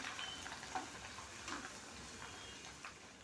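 Corn chivda frying in hot oil gives a faint, steady crackling sizzle with a few soft pops scattered through.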